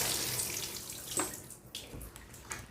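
Water from a shower runs steadily over a houseplant being rinsed indoors, a close hissing spray that briefly shifts and splashes as the plant is moved under it.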